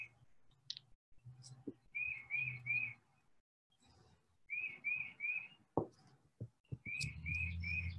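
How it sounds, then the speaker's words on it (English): Outdoor birds repeat short clear whistled chirps in triple bursts, fairly close and crisp, alternating with soft rustling and light handling noises from nearby crafting with tissue paper and glue. "I'm outside, so you might hear some birds"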